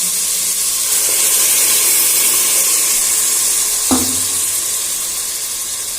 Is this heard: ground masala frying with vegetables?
yes